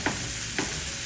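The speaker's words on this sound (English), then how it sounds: "Just cook the egg on this side." An egg frying in a pan beside vegetables and Spam for fried rice gives a steady, close sizzle, with two soft scraping stirs about half a second apart.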